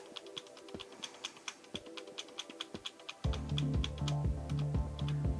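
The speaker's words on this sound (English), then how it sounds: "I'm going to hit the delete key" Computer keyboard key pressed over and over while a PC boots, about a dozen sharp separate clicks in steady rhythm, then a loud fan hum rises beneath the continuing taps.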